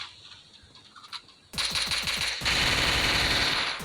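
Gunfire in the battle royale game Free Fire comes as a quick burst of rapid shots, followed by a louder, denser stretch of sustained firing, with nobody speaking.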